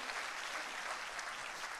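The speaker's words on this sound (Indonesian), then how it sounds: "tepuk tangannya sekali lagi yang paling meriah buat Yesus Tuhan kita" A church congregation at a worship service applauds in a continuous, even roar of many clapping hands, moderately loud and filling the room, with no voices on top.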